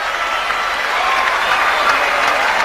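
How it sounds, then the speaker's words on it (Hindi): A large indoor crowd gives loud, sustained applause at a men's singles badminton final, a dense, even wash of clapping throughout. "तालियों की गड़गड़ाहट इस पुरुष वर्ग के मुकाबले में"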